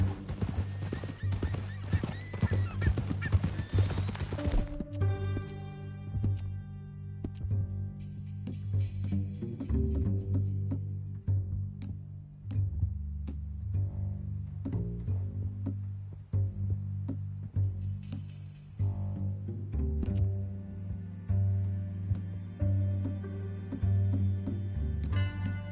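A horse in a video game clip-clops along in a steady hoof rhythm, with a loud neigh and whinny near the start and the hooves continuing alone afterward.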